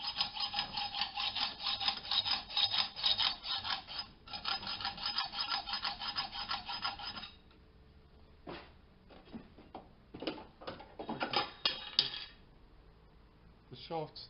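A metal hacksaw cuts the end off a refrigerator icemaker shaft clamped in a vise, with fast rasping back-and-forth strokes for about seven seconds, then scattered scrapes and clinks.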